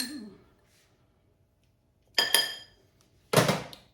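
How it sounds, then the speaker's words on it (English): A utensil stirring dry ingredients with ginger and nutmeg in a bowl, two short bursts of scraping, clinking contact after a quiet start with a faint voice. "We're going to mix that together."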